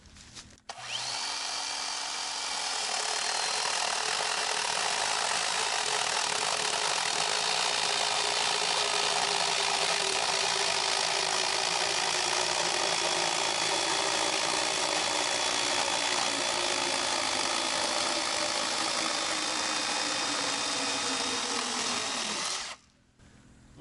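A power saw cuts through wood in one long continuous pass, a loud steady whine with a slowly falling pitch near the end before it stops, close by and without talk.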